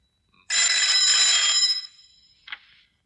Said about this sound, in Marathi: विक्रम, ये फोन